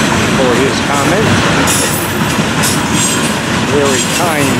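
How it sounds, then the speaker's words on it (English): A long rock train of hopper cars rolls past at close range, making a loud continuous rumble and grinding with faint wheel squeals woven through it. "Watching this part of the rock train go by"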